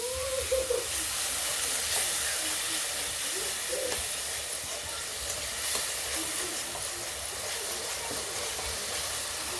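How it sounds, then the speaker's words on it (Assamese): Water poured into masala fried in a little oil for a fish and potato curry, giving a steady hissing sizzle with faint stirring, close and continuous. "এতিয়া এড কৰিম অলপখিনি পানী"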